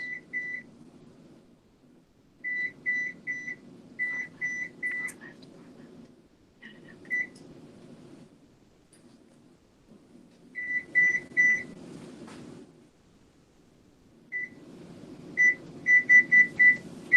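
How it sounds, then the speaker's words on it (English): A kitchen timer chirps out a run of short electronic beeps in bursts as buttons are pressed to set it, over a quiet background hum in a home kitchen. "And I'm gonna set my timer for"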